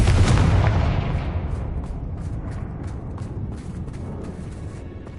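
A Confringo fire spell in Hogwarts Legacy bursts with a loud, heavy explosive boom at the start, then rumbles and crackles as it slowly fades away, with no talking over it.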